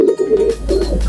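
An eight-year-old pigeon at a loft gives a close, loud throaty coo in two rolling phrases, with no voices nearby.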